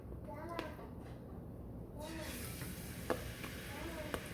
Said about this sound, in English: I'm just going to simply put the pork chops in the pan because the pan is already hot